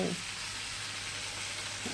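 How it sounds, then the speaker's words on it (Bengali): Okra (bhindi) fries in a pan, giving a soft, even sizzle that is fairly faint and lasts only a couple of seconds. "এদিকে ভিন্ডি ভাজাও বসিয়ে দিচ্ছি"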